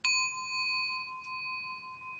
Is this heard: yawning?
no